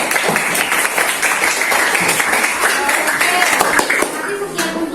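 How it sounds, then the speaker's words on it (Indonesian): Students in an Indonesian university practice-teaching classroom applaud after a group presentation, a steady, moderately loud patter of many hands clapping mixed with voices throughout. "Silakan beri tepuk tangan lah untuk kita."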